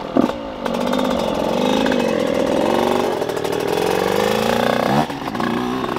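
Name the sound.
2008 Husqvarna 125 CR dirt bike engine running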